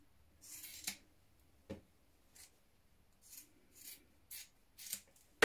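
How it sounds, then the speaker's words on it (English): Scissors snipping away excess knit fabric while sewing a cardigan, a series of soft, close, separate cuts spaced about a second apart in an otherwise quiet room. "you can cut away a little of the excess"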